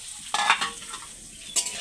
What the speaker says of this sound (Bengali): ক্যাপসিকামটা আমি একটু ভালো করে ভেজে নেবো